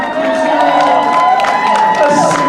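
A convention audience at a Las Vegas fan event cheers and whoops loudly, a dense, steady roar of crowd voices with scattered claps, close and sustained throughout.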